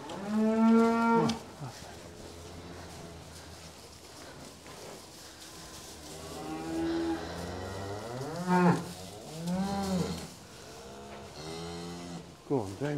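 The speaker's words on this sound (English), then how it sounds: "There's a cow in the way!" Several cattle moo repeatedly at a farm gate, with long drawn-out calls that overlap one another, nearby and loud, while people call out and talk around them.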